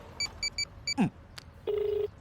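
Keypad tones as a phone number is dialed, a few short evenly spaced beeps, then a brief rustle and a steady ringback tone near the end, close and clear with no talk.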